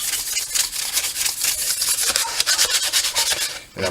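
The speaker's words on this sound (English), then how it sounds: "So everywhere it's not taped, we're going to sand it" Coarse sandpaper rasps back and forth across a custom cold air box for an LS-swapped C10 before painting, a close, steady scratchy rubbing in quick repeated strokes with no talking.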